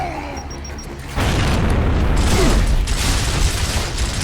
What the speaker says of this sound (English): We're actually gonna toss a grenade right in there.